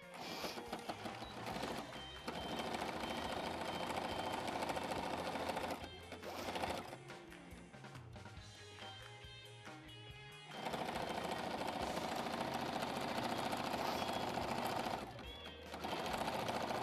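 A sewing machine stitches a fabric cover with loud, fast mechanical whirring in long bursts, with brief pauses around the middle before it resumes at full speed.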